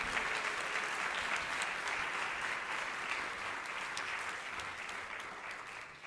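Steady, dense audience applause fills a hall at an ISKCON New York fundraiser honoring His Holiness Radhanath Swami, continuous and fairly loud throughout with no talk over it.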